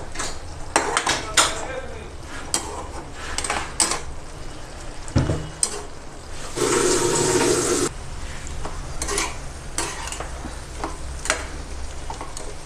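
A spoon clinks and scrapes around a bowl as spiced ingredients for chicken egg pakora are mixed by hand, heard as a series of sharp metallic taps with a brief sizzling burst partway through, close and fairly loud.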